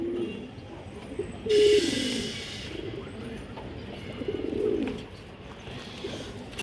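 A khaki-coloured hen pigeon coos repeatedly at close range. Several soft, low, rolling coos come in a loose rhythm, with a brief hiss of background noise partway through.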